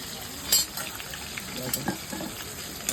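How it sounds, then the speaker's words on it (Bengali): Onions frying in a pan for ghugni give a steady, close sizzle punctuated by a few sharp clinks and scrapes as they are stirred, with no speech over it. "পেঁয়াজ ভাজা চলছে এখন"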